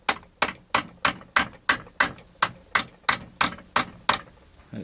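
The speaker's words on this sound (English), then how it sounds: "I'm just going to pop both of those rivets out." A nail hammered to drive rivets out of MKS folding bicycle pedals held in a vise: about a dozen sharp metallic blows at a steady, even pace, close and loud, each ringing briefly.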